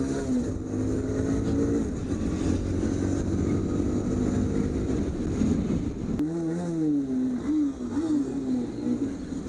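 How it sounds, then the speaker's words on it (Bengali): A BMW 310 and an Apache motorcycle race on the road, their engines droning steadily and then rising and falling in pitch as they rev and accelerate close by, with constant wind and road noise. "এবার বিএমডব্লিউর সঙ্গে একটা রেস হয়ে যাক।"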